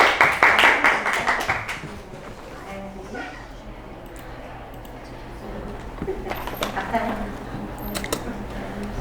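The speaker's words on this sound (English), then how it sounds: "Please clap for her." A short burst of classroom clapping for a student, a few pairs of hands applauding for about two seconds before quieter room noise and talking take over.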